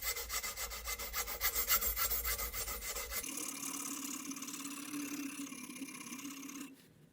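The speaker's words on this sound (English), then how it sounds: "It is sanding super easy." Strips of fine sandpaper rasp steadily along a knife blade at a workbench, close and even, the stroke texture shifting into a softer, smoother rub partway through before tapering off.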